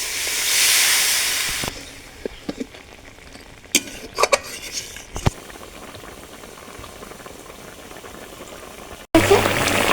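Water hits a pan of fried spicy masala with a loud burst of hissing sizzle at first. It then settles into quieter bubbling, broken by a few sharp clinks from a utensil, and there is no talking over it.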